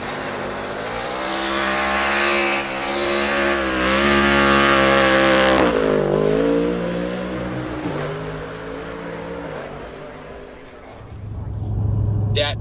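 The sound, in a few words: Ford Mustang GT3 race car 5.4 V8 engine revving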